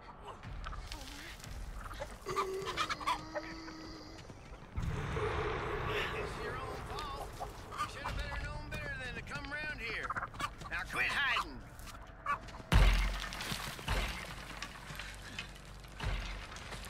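Clucking and gobbling fowl in The Texas Chainsaw Massacre video game, intermittent calls mixed with game mechanism clatter and a person talking over it.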